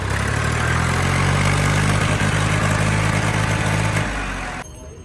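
A Sonalika 750 tractor engine idles with a steady, loud, low rumble on a cold day, then cuts off abruptly near the end.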